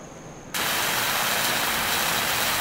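A truck engine in the video game Far Cry 5 starts up after a brief quiet moment and keeps running as a loud, steady, broadband roar, with no talk over it.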